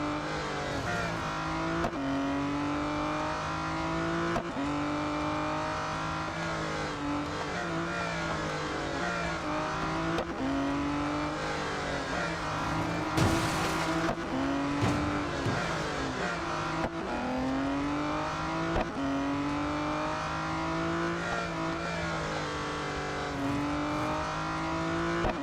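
An Aston Martin Vulcan AMR Pro races a final lap in Real Racing 3, its engine roaring continuously up close while the pitch climbs and drops through gear changes, with a brief burst of tyre or wind noise midway.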